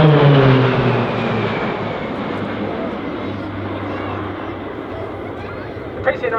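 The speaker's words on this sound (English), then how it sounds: "it does look like the aircraft are flying very close, and in fact they are." Royal Australian Air Force Roulettes PC-9A propeller aircraft fly past in close formation at RAAF Base Point Cook, a loud droning engine roar with a falling pitch that fades into a steady distant rumble, with a commentator talking over it.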